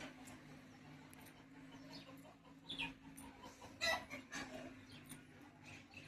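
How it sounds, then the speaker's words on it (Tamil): Faint clucks from a chicken come through a quiet outdoor background, a few soft calls spread across several seconds. "கோழி இருக்கும் போல."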